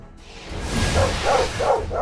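Several dogs barking in the StoneShard video game, with rapid, repeated barks and yips running together in a short, dense burst, mid-loud and close.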